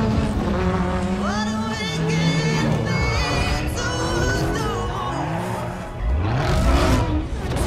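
Camaro race car engines in a Forza Horizon racing video game rev and whine loudly with shifting pitch, gears climbing and dropping, continuous high-energy motor roar with a brief tire-squeal feel.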